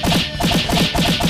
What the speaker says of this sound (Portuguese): 5 socos por segundo.